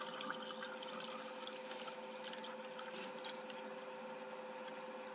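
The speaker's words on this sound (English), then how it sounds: "you turn the water on and off here, so you can get an idea of the flow" Steady stream of water running from a water ionizer faucet, a continuous moderate flow that holds evenly throughout without pauses.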